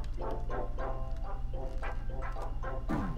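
Greater Dog from the video game Undertale barks repeatedly, about eight short yappy barks in a steady rhythm over a low humming game backdrop, ending in a brighter rising sound.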